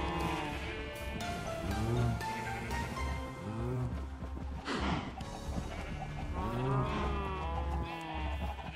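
Several drawn-out Minecraft cow calls, lowing like livestock, overlapping and fairly loud against a busy background.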